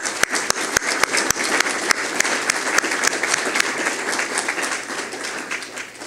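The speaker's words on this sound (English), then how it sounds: "they deserve a great round of applause also." An audience at a Rotary citizen-of-the-year ceremony applauds steadily, the clapping loud and continuous at first and then tapering off slightly toward the end.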